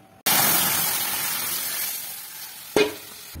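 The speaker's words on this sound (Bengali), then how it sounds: "এখন ডালটাকে আমি তেলে দিয়ে দিবো" Boiled lentils with potato tipped into hot oil in a pan, an abrupt loud burst of sizzling that slowly eases, then a sharp clink of a spoon or pan and a second flare of hiss near the end.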